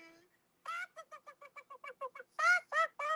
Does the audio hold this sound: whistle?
no